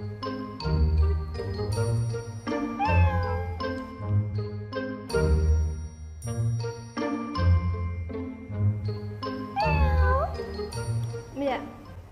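A man imitates a posh, pampered cat, giving several drawn-out, sliding meows over a comic stage set with light jingling and tinkling, loud and close throughout.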